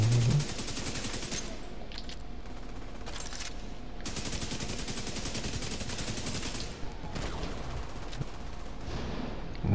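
Turret gunfire in The Division 2 at the Jefferson Trade Center, a dense continuous rattle of rapid shots, loud and sustained through the whole stretch with brief dips in intensity.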